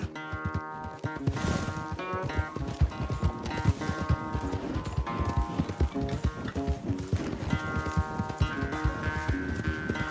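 In the Red Dead Redemption 2 video game, a horse gallops hard during a race, its hooves beating a rapid, continuous clip-clop rhythm up close, with a brief whinny and a musical score underneath.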